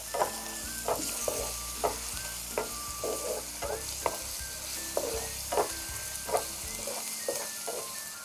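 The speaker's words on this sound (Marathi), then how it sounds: "आता त्याच्यामध्ये आलं आणि लसूण ठेचलेलं ते टाकते। थोडंसं परतवून घेते।" Crushed ginger and garlic sizzle in hot oil with browned onion as they are stirred in a pan. A steady fry runs under repeated scraping strokes of the spoon, close and alone.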